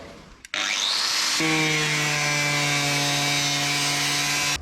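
A power cutting tool starts up and then runs steadily with a loud, high, tonal whine as it cuts into a rusty sill panel on a Mazda RX-8, continuous and close with no talking.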